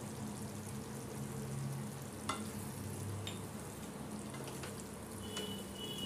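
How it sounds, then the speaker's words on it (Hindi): Paneer and onion sabzi with chillies and garam masala sizzles steadily in a pan while being stirred and mixed, a continuous close frying hiss with occasional scrape clicks and no talking. "अच्छे से हम मिक्स कर लेंगे।"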